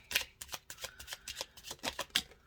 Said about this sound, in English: They're easy to shuffle.